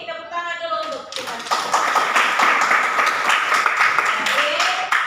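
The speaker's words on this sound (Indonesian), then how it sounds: "jadi tepuk tangan dulu untuk kita" A classroom of vocational high school students bursts into a few seconds of lively clapping, with a teacher's voice speaking just before and after.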